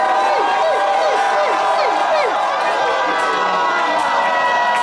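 Women of a church congregation shouting loudly together in a dense roar of voices with whoops and cheers, loud and sustained throughout.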